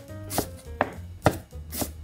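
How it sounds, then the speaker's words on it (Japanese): Four crisp knife chops land on a cutting board at an even, unhurried rhythm as an onion is finely minced, close up with no talking. "こうやって刻むとこのように 細かい みじん切り"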